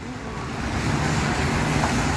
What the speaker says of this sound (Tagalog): Umuulan talaga.